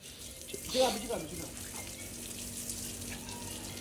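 Cold water from a pump motor runs in a steady hiss while a pet is bathed, with a brief louder splash and a voice speaking near the start, continuing close and constant.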